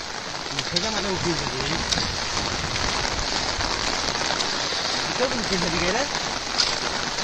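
Steady monsoon rain pattering down throughout in the hilly Konkan countryside, a dense hiss with scattered drops, while people talk briefly over it now and then.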